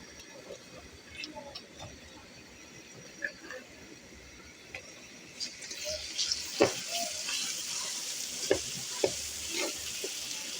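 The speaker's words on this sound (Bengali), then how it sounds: "রসুন বাটা দিয়ে আমি কিছুক্ষণ পেঁয়াজ আর রসুনটা কষিয়ে নেব" Onion and garlic paste frying in a pan, a soft steady sizzle with scattered scraping clinks of stirring that grow busier toward the end.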